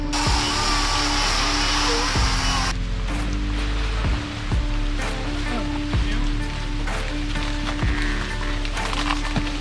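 Rushing water from a flooded creek during Hurricane Helene on an overlanding trip in Kentucky, a loud continuous roar of churning water with an engine hum, dull thumps and clanks, and intermittent voices underneath.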